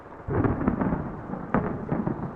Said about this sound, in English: the first rumble of thunder that shook the night sky